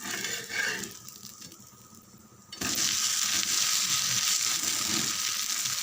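Dosa frying in oil on a hot pan, a steady bright sizzle that drops briefly, then returns louder and continuous, with no talking.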